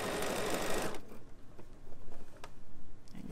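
A Bernina sewing machine with foot 3C stitches shearing elastic in a loud, fast mechanical run for about a second, then slows to softer, uneven stitching bursts, close up.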